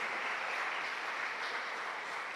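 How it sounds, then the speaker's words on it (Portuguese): A church congregation clapping together, a dense, even wash of applause that holds steady throughout with no voices on top. "Dê um aplauso a Jesus bem forte."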